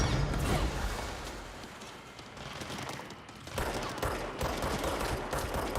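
Rapid gunfire in the video game Control, dense bursts of shots and mechanical clatter running through the whole stretch, loud with a brief lull midway and no talking over it.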